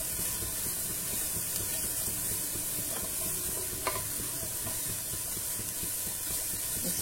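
A pan sizzles quietly and steadily while fried rice is being made, a soft hissing fry with light stirring scrapes and one small clink, and no voice over it.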